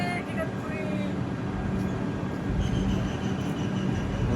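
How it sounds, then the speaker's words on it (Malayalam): A WDG diesel locomotive hauls a train past at Igatpuri station, with a continuous heavy rumble of wagons and faint wheel squeal close by. "ഇത് ഡീസൽ ലോക്കോമോട്ടീവ് കേട്ടോ"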